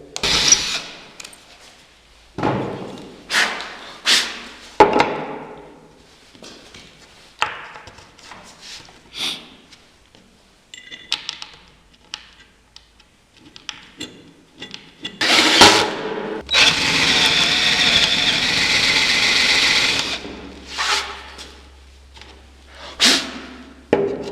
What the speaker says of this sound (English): I need to drill a 1/4 inch hole